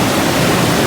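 Steady, loud rush of clear river water flowing at Lake Thun, Switzerland, a dense unbroken wash of noise close by with no voices.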